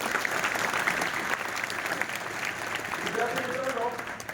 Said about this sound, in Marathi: याबद्दल आता जोरदार टाळ्या त्यांचं आपण स्वागत करूया